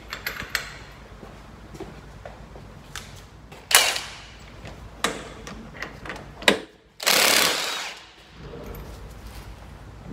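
A road wheel is removed from a 2013 Range Rover Evoque with a locking wheel nut, bringing close ratchet clicks, metallic clanks and sharp knocks, then a longer loud burst of rattling tool noise near the end.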